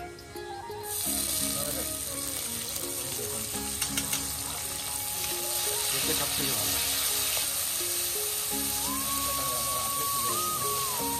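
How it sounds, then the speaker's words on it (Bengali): Cashews and raisins frying in hot oil in a pan, a steady sizzle running throughout with occasional clinks of a utensil, while background music or tones play over it. "এবার কাজু কিশমিশটা একটু ভেজে নিচ্ছি।"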